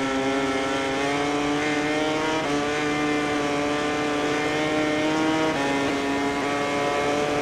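In the MotoGP 20 racing game, a motorcycle engine screams steadily down the back straight, loud and close, with its pitch climbing and dropping at two gear shifts across several seconds.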